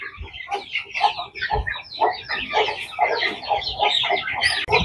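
Rhode Island Red chickens clucking at feeding time, a busy overlapping chorus of short clucks and squawks from several birds close by, no talk.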